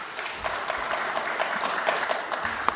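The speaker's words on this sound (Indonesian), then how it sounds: "Tepuk tangan dulu buat kita semua." Applause from a group in a meeting room at the close of a parliamentary hearing, a steady wash of clapping at moderate level lasting a few seconds with no voices over it.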